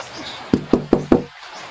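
Knuckle taps on the thin body of a handmade acoustic guitar: four quick, evenly spaced knocks with a hollow, resonant thud, close up and alone.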